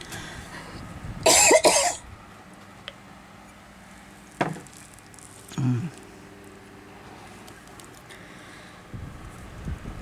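A burst of harsh coughing comes up close, followed by a couple of softer coughs and a throat clear against quiet background noise.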